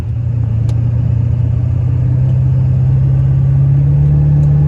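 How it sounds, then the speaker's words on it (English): A loud, steady diesel engine rumble running close by, low droning tone rising slightly in pitch as it continues. "Diesel noise."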